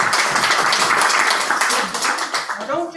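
An audience claps and applauds steadily at an International Women's Day gathering, a dense, continuous patter of many hands throughout the short stretch.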